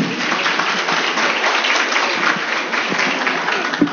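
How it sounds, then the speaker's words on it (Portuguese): A crowd at a spiritist week event in Irecê applauds its sponsors, a loud, dense, continuous roar of clapping with no voices on top. "Palmas, né, gente,"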